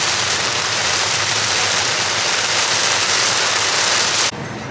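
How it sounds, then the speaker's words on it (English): Heavy rain pouring down on a car driving through Hawaii, a loud, dense, steady roar of water drumming on the roof and windshield that drops off abruptly near the end. "it is pouring, you guys, like out of nowhere, what the heck? It has not rained this hard, like our whole trip"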